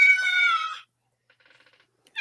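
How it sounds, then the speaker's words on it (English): A cat gives one clear, drawn-out meow up close, followed by a few faint, soft ticks and then silence. "Oh, he had to get the cat in, didn't he?"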